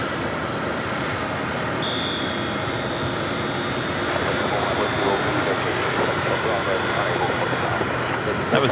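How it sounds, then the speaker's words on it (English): A Delta Airlines A321 departs JFK Airport for Orlando. Its steady engine rumble carries a thin high whine and swells slightly toward the end. "That was Delta Airlines at 2170 heading to Orlando, Florida in an A321."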